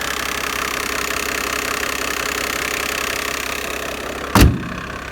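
A 1995 Mercedes-Benz E300 with the OM606 diesel engine runs at a steady, even clatter, and a short loud thump comes near the end as it pulls away.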